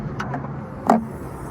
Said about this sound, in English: press the Volkswagen logo in, just like this, and lift it like a handle